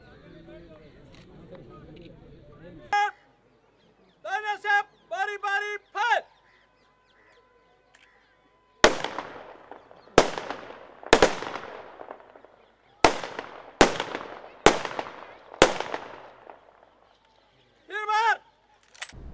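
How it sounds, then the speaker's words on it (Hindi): A police guard-of-honour gunfire salute at a funeral in Rajasthan: about eight sharp rifle volleys crack one after another at irregular intervals, loud and close, with bird calls and brief voices heard before and between the shots. "पुलिस के द्वारा गार्ड ऑफ ऑनर पेश किया गया और बंदूकों से फायर करके उनको सलामी दी गई"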